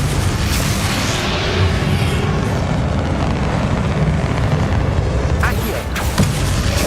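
A Bombarda spell blast in Hogwarts Legacy lands over a dense, rumbling battle din, with sharp bursts near the end as the explosion hits, while a voice speaks.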